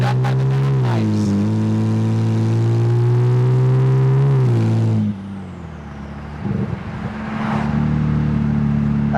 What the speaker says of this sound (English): it's just so hard to tell because the car is so loud